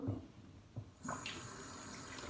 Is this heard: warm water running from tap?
yes